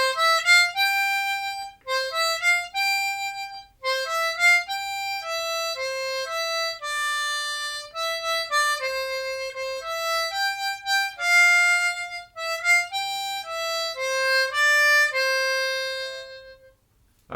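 A harmonica plays the melody of When the Saints Go Marching In as a beginner tune, with clear, reedy sustained notes in a steady, phrased rhythm, close and alone with no talking.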